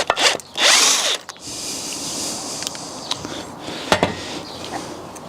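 A power tool whirs loudly on a nut holding a car shock absorber, a brief strong burst near the start, then a steady mechanical rattle and clanks of metal close by in a workshop.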